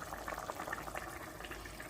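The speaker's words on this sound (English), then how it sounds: "I'm gonna add water, I'm gonna mix it and just pour it in here" Water is poured into a pan of beef goulash, giving a soft, steady bubbling and splashing of liquid that runs for about two seconds at low level, with no talking.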